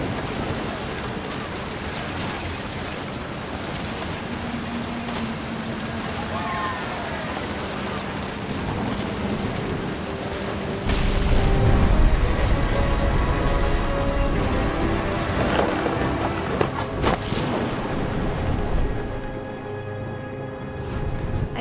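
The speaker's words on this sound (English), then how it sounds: "The thunder sounded much too close and full of angry power" Thunderstorm in the video game What Remains of Edith Finch: continuous rain patter with a deep rolling thunder rumble swelling midway, plus faint tonal music in the background.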